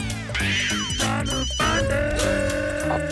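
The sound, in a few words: telephone ringing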